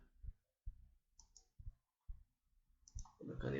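A pen is clicked several times to switch its ink colour, a series of crisp, close, quiet clicks spaced unevenly, ending with a brief rustle.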